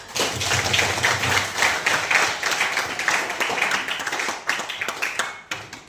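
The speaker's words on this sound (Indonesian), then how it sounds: "Kita beri tepuk tangan." A classroom of students claps together, a dense, steady burst of many hands lasting several seconds at close range, with only faint voices beneath.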